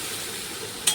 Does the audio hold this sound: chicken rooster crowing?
no